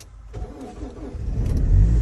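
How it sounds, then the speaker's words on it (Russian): A car cranks and fires into a cold start in frost in a remote northern village, a brief whir of the starter, then the engine catching and rising into a loud close rumble. "Сейчас у нас будет холодный запуск."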